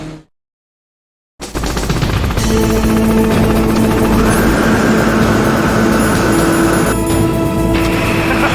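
Hind D attack helicopter from Metal Gear Solid, rendered as a loud, continuous rotor roar with dense rattling gunfire-like bursts that begin abruptly after a brief silence and persist throughout, no voices present.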